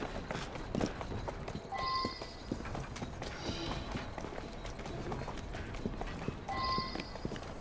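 Horse hooves clip-clop in a steady walking rhythm on a London street in the game Assassin's Creed Syndicate, continuous and moderately close, with occasional mechanical rattles and faint background sounds.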